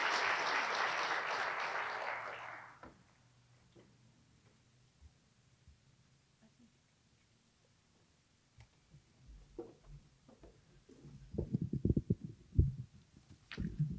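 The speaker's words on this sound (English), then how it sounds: "We can give him a round of applause." An audience at the 2024 Lynnwood State of the City event breaks into loud applause for about three seconds, then the room falls quiet, with faint rustling and handling noises building near the end.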